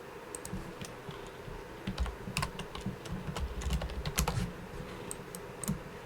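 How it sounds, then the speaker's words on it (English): Rapid clicking and tapping from controls during a chess game on a PlayStation 5, a steady irregular patter of close, light clicks with no voices. "Don't pay attention to the mouse clicks."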